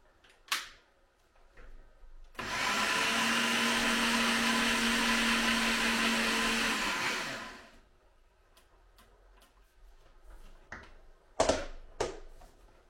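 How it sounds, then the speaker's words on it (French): A small blender grinds oat flakes, whirring loudly and steadily for about five seconds between a few scattered clicks and knocks, with no voices. "et on va mixer tout ça."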